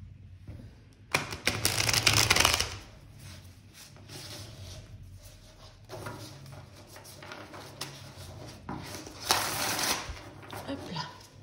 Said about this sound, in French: Je vais bien mélanger le paquet.